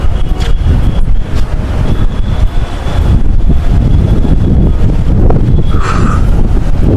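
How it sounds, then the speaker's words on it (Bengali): Strong sea wind buffets the microphone on Himchari hill above the coast at Cox's Bazar, a loud continuous roar with gusting swells and no talk. "বাতাস"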